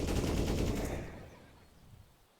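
Gunfire in Counter-Strike at an ESL Pro League match between Astralis and NaVi on Inferno: a dense, loud burst of shots at the start that fades into a decaying echo and quieter background.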